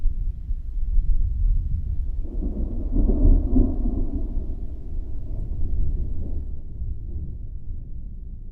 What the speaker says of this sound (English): the storm's going on right now